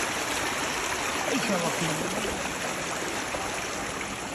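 Floodwater from an irrigation outlet running through a Punjab village after heavy rain, a steady, close, full rushing and gurgling flow that continues unbroken throughout.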